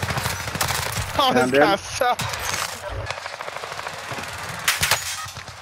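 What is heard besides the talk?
gunfire in a video game (Rebirth Island)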